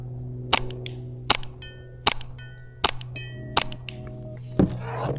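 Sharp repeated shots from an MTW airsoft rifle, about seven crisp cracks at irregular spacing over a steady electronic hum, with bursts of bright ringing tones between some shots.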